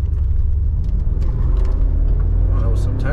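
A Mercedes G63 in sport mode gives a deep, steady engine rumble from inside the cabin as it accelerates and shifts, with someone talking over it.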